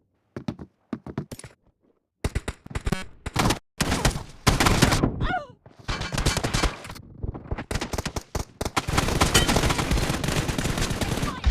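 Gunfire in the battle royale video game PUBG, heard as loud, close bursts of rapid automatic shots and single cracks, with short gaps that give way to dense sustained firing.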